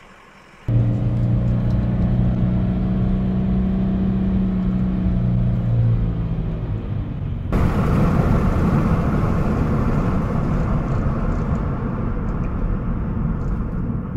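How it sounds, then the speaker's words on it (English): A camouflaged Chevrolet mid-engine Corvette prototype with Michigan plates drives on the road ahead while being chased, its engine hum and tire and road roar sustained and loud, jumping to a heavier rushing noise midway. "New Corvette, guys. Been chasing it for miles."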